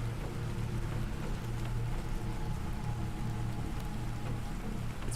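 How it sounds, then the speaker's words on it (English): Steady rain falling across the alien terrain of the survival game The Planet Crafter, a continuous soft wash of drops with a faint low hum beneath, even and unbroken throughout. "It's raining."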